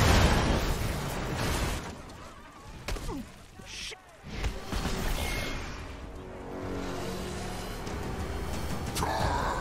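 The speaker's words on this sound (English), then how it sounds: "Cement explosion dodging." Explosions and crashing effects from the Marvel's Avengers video game rumble and burst through several seconds of dense, loud game audio, with a sharp hit in the middle and a brief lull.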